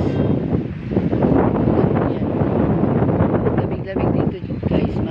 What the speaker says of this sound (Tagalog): Mahangin na mahangin.